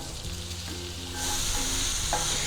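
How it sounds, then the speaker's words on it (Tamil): Chopped onions tipped into hot oil in a pan for paneer burji, bursting into a loud, steady sizzle that swells midway and keeps crackling close by, with no talk. "சட்டி சூடாயிருச்சு, எண்ணெய் ஊற்றலாம். இப்போ கட் பண்ணி வச்ச வெங்காயத்தை போடலாம்."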